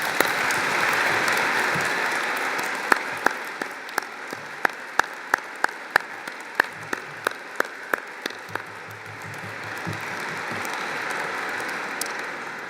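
A cathedral audience at a graduation ceremony greets the graduands with applause: sharp irregular claps ring out and echo through the large space, thinning toward the end.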